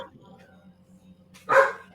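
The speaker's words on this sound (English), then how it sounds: "This fucking dog." A dog barks in a short burst of loud, close yaps near the end, over a steady low hum with faint background voices.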